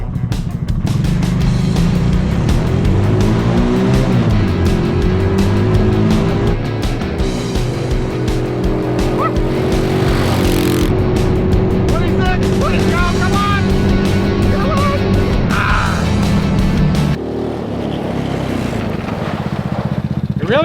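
A mini Jeep engine revs hard while driving on dirt, bogging down in third gear, with a loud, close, continuous drone that rises and falls with shifts. A voice talks over it in places.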